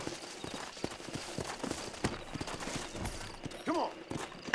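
Horse hooves clip-clop at a steady walking pace in the Red Dead Redemption video game, faint and somewhat distant, with a short whinny near the end.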